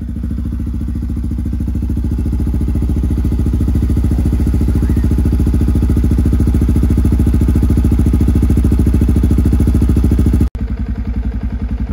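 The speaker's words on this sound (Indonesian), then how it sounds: "Nah ini suara idle-nya ya." A WR motorcycle fitted with an RSS standard-type exhaust idles with a loud, close, rapid and even throb that holds steady for the whole stretch, with one brief dropout near the end.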